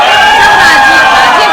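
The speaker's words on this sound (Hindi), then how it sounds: "राजीव के लिए एक बार हूटिंग करो" An audience hooting and cheering for Rajeev: a loud, close crowd of whoops and shouting voices at a steady level for a brief burst.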